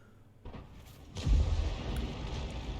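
A Lorraine 155 mle. 50 artillery gun in a tank video game fires a shell, giving a sharp report followed by a heavier, booming low thud and a rumbling tail, loud and close.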